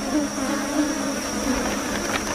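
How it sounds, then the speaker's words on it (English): A swarm of sweat bees buzzes constantly around a person in gorilla habitat, a close, steady droning hum with several insects' wingbeats overlapping and no pause. "Sweat bees,"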